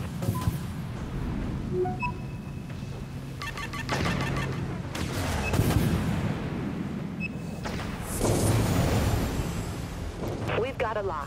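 Space-combat weapon fire and incoming enemy missiles in Dreadnought, with booming impacts and rumbling blasts spread through the clip under steady background noise and radio-style voices.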